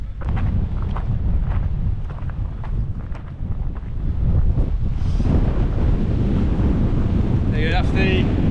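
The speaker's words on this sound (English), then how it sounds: "it's a tad windy" Strong gusting wind on the Lawley summit, a hilltop in the Stretton hills, buffets the microphone in a constant low roar, growing heavier midway, with faint voices briefly audible underneath.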